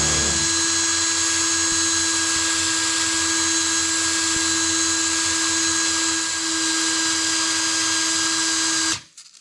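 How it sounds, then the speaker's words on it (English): A power drill spins a Yamaha XJ750 engine valve against fine abrasive with WD-40 to polish it, giving a steady high-pitched whine with a constant tone for about nine seconds before it abruptly stops. "then I just roll with drill"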